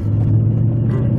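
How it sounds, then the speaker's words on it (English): Audi R8 fitted with an Armytrix exhaust system rumbling deep and steady inside a shopping centre car park, loud and close, a brief sustained engine drone with no talk. "you guys got to hear the Armytrix exhaust system in the shopping centre"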